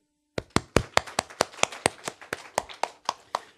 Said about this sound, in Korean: 우리끼리 박수 치는 거지 뭐